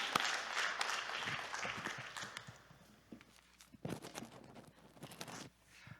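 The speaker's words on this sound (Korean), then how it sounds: "하나님 앞에 영광의 박수 올려드립시다" A congregation applauds during a church service at a prayer retreat, a moderate wash of clapping that thins into scattered claps and returns briefly.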